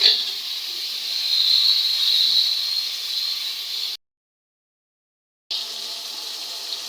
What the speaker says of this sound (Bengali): এভাবে কিছুক্ষণ নাড়তে হবে